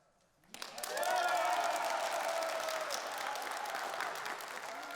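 Applause breaks out in a train station waiting room, a crowd clapping in a sustained wash with cheering mixed in, rising quickly and then holding steady.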